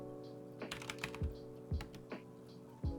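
Keys clack on a computer keyboard while a command is entered in a terminal to install Node. The taps come close and quiet, scattered in irregular clusters, with a few heavier thumps like the space or enter key.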